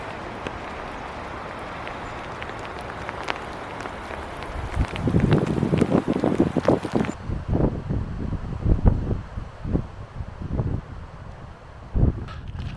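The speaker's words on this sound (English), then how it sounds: "we're gonna keep going in this wind and rain" Gusty wind buffeting the microphone on a hike in the rain, steady rushing noise with heavier bursts and thumps midway, no talking.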